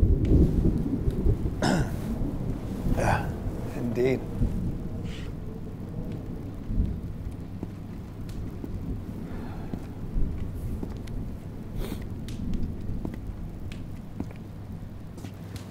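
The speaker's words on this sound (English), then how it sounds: "Crazy storm, huh?" A thunderstorm in a short film rumbles low and heavy over steady rain, with booming peaks near the start and fainter rolls later, while a couple of people exchange a few words.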